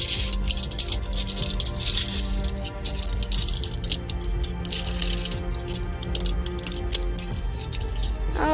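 Scissors cut through a paper plate for a craft project, producing clusters of quick, close snips and crunches over a steady background hum.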